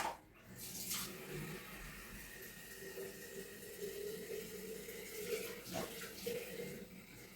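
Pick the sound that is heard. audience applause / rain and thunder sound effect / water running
water running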